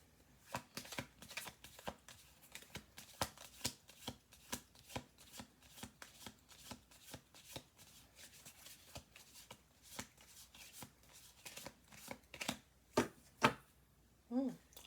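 Tarot cards are shuffled up close, with repeated quick riffling flicks and soft taps in an uneven rhythm, quiet and with no talking.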